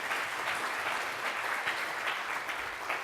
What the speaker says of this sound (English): So big round of applause for everyone.